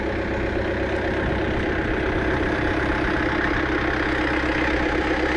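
A Caterpillar 410D backhoe loader with an open cab idles in a yard, its diesel engine giving a steady, close, even rumble with a constant low throb and no voices.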